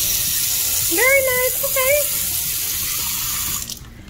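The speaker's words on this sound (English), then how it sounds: "So this is the filtered water." Filtered water pours steadily from a water dispenser in a Marriott Element hotel room in Orlando, a continuous close rush that stops near the end, with a brief spoken remark over the flow.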